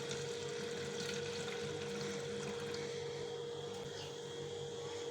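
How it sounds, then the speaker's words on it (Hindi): Water is poured from a glass into a container with pumped dish soap for a homemade cleaner, a faint, continuous trickling and splashing with a steady background hum and no speech. "एक और 2 पंप इसके डालें हैं और 1 गिलास ये पानी का"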